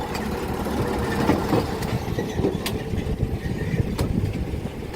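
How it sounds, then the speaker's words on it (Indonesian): Steady low rumble of a large diesel locomotive engine pulling empty wagons, with a dense rattling texture and scattered clanks, moderately loud and continuous throughout. "kereta kosongan yang ketiga ini ditarik lokomotif besar"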